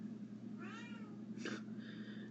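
A house cat lets out two or three soft meows in a quiet room with a steady low hum underneath, no voices present.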